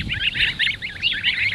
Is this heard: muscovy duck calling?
yes